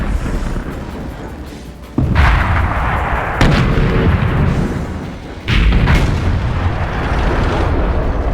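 In a tank video game, shells are fired at a heavy KV-4 tank from an M6 and an IS-3. Three loud, booming cannon blasts land a second or two apart over a continuous rumbling battle din.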